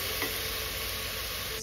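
A brief stir of grilled tomato and garlic for carrot and pumpkin soup, a dense close sizzle with a faint scrape of the spoon near the start, no talking.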